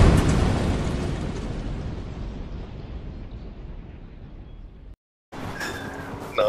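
A car catching fire in a video game gives a loud whooshing roar of flames that slowly fades, cuts out briefly, then returns with faint crackling.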